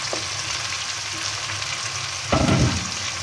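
Chopped tomatoes going into hot oil with browned garlic and ginger for chana daal, a steady close sizzle that flares into a louder, crackling burst near the end, with no talk.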